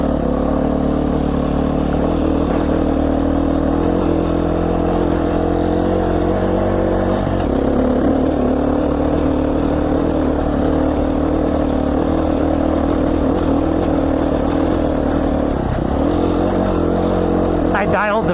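A Beta 500 dirt bike engine climbing steep singletrack in Idaho, a steady loud drone with shifting revs throughout and a rider talking over it.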